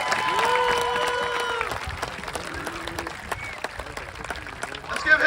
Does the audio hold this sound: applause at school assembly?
yes